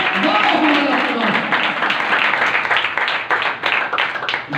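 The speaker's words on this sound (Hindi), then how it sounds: "खुदा की जोरदार तालियां दें।" A Hindi-speaking church congregation claps loudly in praise during worship. Dense, close applause fills the room and continues through the clip, mixed with shouting voices, then thins slightly toward the end.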